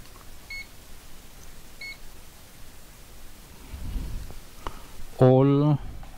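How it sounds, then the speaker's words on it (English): A multimeter set to continuity gives one loud, steady electronic beep lasting about half a second near the end, after quiet room noise and faint rumble, while troubleshooting the wiring of a desktop computer that won't turn on. "You take your multi-purpose meter, you put it on continuity."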